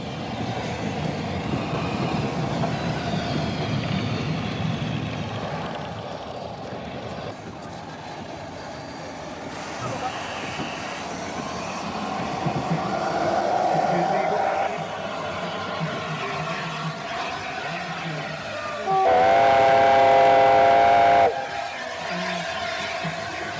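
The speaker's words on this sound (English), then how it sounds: "A4 Pacific was also on display and steamed slowly past" An LNER A4 Pacific steam locomotive rumbles slowly past, a low, steady rolling sound under a narrator's voice, then a loud, sustained whistle blows near the end.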